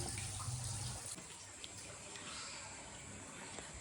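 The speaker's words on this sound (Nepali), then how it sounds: "मैले यहाँ पानी भर्छु" Tap water pours steadily into a container indoors, a faint, continuous rushing wash that softens slightly after the first second.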